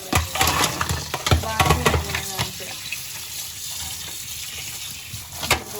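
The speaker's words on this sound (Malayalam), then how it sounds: "നല്ലോണം വാഷ് ചെയ്ത് അരിപ്പയിലേക്ക് ഇടണം" Mussels in their shells are rinsed under running tap water at a sink, a steady splashing gush with clattering knocks, while a person talks over it.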